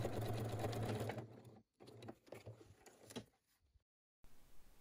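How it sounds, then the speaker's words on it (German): Domestic sewing machine stitching a fabric zipper pouch, running in a steady loud whir for over a second, then several short bursts of stitching with pauses, stopping before a quiet room tone returns. "die Nadel einfach im Stoff stecken lassen, Nähfuß anheben und ihn hin und her bewegen, so dass er nicht stört, und bis zum Ende nähen"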